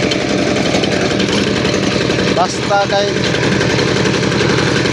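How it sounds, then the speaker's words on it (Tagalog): A cultivator engine runs close by, its steady loud mechanical drone continuing throughout while someone speaks briefly over it. "Sa cultivator."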